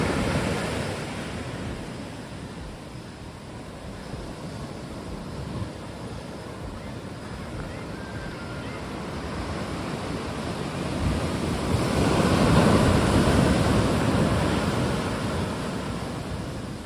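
Surf rolls steadily onto Saut D'eau Beach while wind buffets the microphone in a continuous, fairly soft wash that swells briefly toward the end. No voices.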